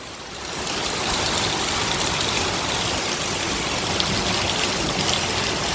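Heavy rain pours down steadily in Rajasthan, with rainwater streaming and flowing nearby; after a softer first half-second, a loud, dense, continuous hiss holds evenly with no voices.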